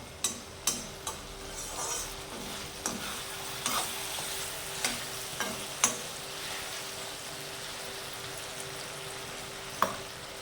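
A spoon stirs sabudana khichdi with potatoes in a frying pan, giving a steady soft sizzle broken by scattered clinks and scrapes against the pan, close by and without talk.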